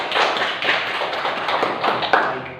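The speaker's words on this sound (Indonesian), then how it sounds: "Tepuk tangan." A classroom of primary school students clapping their hands together, a dense burst of many claps close by lasting a couple of seconds with no talk over it.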